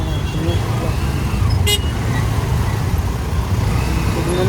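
Dense road traffic on the Khopoli to Pune route rumbles continuously nearby, with a single short horn toot cutting through the engine noise.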